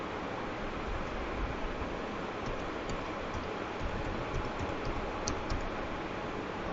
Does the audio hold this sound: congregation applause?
no